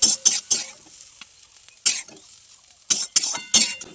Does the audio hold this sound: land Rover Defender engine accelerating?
no